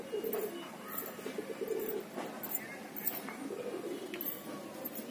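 High flyer pigeons coo in a soft, repeated low rhythm, with a breeding pair settled on a nest and faint chirps and rustles around them; no one speaks.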